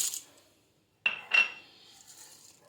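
Peanuts drop into a pot, making two quick clattering rattles close by, each fading fast, in an otherwise quiet kitchen.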